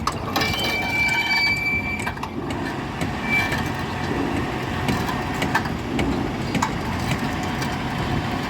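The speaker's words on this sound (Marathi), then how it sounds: "आवाज बघा मोटरचा" A motor rigged with a belt tied to a vehicle to haul a load upward runs in a steady, unbroken mechanical drone with faint rattling throughout, close by and with no voices.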